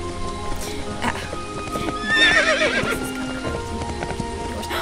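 A horse in a video game whinnies loudly in the middle of the scene, with hoofbeats and a rain-like patter running underneath throughout.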